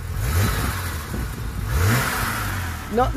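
A BMW M5 Competition engine revs up twice in strong, rising bursts, then drops back, with a sharper mechanical rasp near the end.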